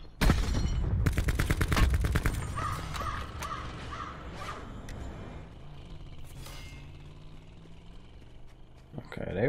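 Gunfire in the Call of Duty Blackout battle royale game: a burst of sharp shots in the first two seconds, then sparser, fainter reports and game noise over the remaining stretch.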